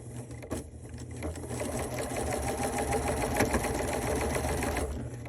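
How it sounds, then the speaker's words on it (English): A sewing machine runs steadily at close range, stitching a border strip onto a quilt top, its rapid even mechanical whir and needle rhythm continuing almost unbroken after a brief start. "I'm going to start stitching my border strip"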